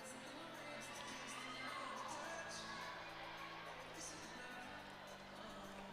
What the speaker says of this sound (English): Big crowd here tonight at Devaney as well. Yeah, Lots it's of excited fans.